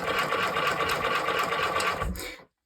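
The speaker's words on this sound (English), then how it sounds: "When you're sewing stretchy leather to the hide" A sewing machine stitches stretchy leather onto fur hide for mittens, its rapid, even needle hum running steadily up close for over two seconds before stopping abruptly.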